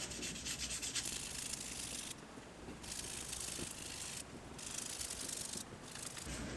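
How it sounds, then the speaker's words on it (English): 1000 grit sandpaper wet with WD-40 is rubbed gently over a metal surface on a 1994 Mazda MX5 Miata rear suspension part, giving a soft, close scratchy sanding sound in repeated strokes with short pauses. "So a little bit of WD-40 and 1000 grit sandpaper, just to gently polish this surface."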